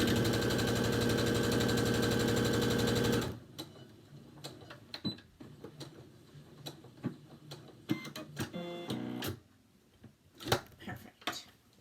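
A sewing machine stitching a fabric mask seam runs as a loud, steady buzzing whir for about three seconds. Then it stops, leaving quieter clicks and handling noises.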